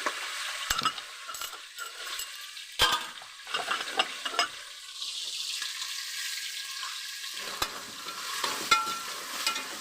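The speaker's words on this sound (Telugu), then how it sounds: "ఇవన్నీ కలిపేసి వేయించేసి మరి అల్లం వెల్లుల్లి పేస్ట్ కూడా వేసేస్తానండి" Small prawns with ginger garlic paste fry in a pot for a chitti muthyala rice biryani, with crisp sizzling broken by repeated clattering stirs and scrapes, close and uneven in rhythm.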